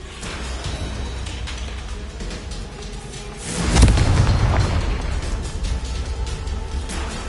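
Confringo blasting spell in Hogwarts Legacy, a single swelling explosion that blooms midway over a steady mechanical background hum and then fades slowly.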